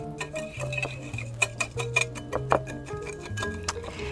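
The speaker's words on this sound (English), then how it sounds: "So we're just gonna break up the clumps of the brown sugar." Brown sugar clumps broken up in a bowl in a home kitchen, heard as rapid light ticking and scraping taps of a utensil, close and steady with no talking.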